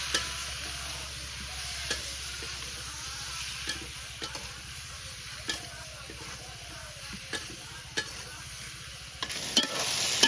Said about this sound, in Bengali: তো তরকারিটা কষানো শেষ